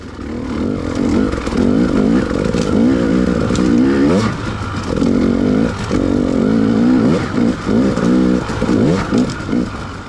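A Honda dirt bike engine revs and drops through gears on a winter single-track trail, loud and close, with the throttle surging and easing in uneven waves and no talk.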